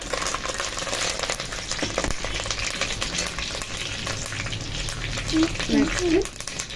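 Organic home-grown curry leaves frying in oil for Sai Baba prasadam, a steady close sizzle with crackling stirs, a voice talking over it near the end.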